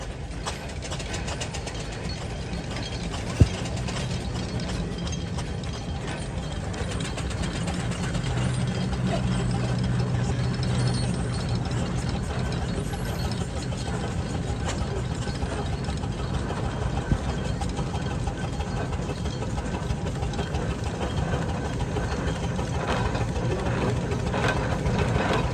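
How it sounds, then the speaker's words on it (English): An Aveling and Porter steam roller at a steam and vintage rally chuffs and clanks past with a steady mechanical rhythm of gears and ratcheting, loud and continuous throughout. "an Aveling and Porter roller is about to come past me now"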